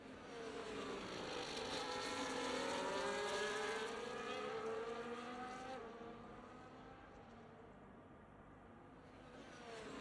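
F1 race cars in a Brazilian Grand Prix racing video game, a high engine whine that rises and falls in pitch as the cars accelerate and shift, loudest early on and fading slightly toward the end.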